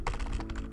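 Quick bursts of typing on a computer keyboard, close and steady, while someone edits a text file in a Linux terminal. No one speaks.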